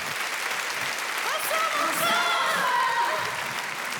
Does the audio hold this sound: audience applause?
yes